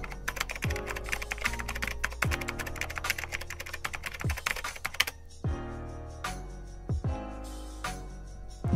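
Rapid clattering keystrokes on a computer keyboard as a chat message is typed during a Brawl Stars session, dense and continuous, with a few heavier key thumps and a brief pause partway through.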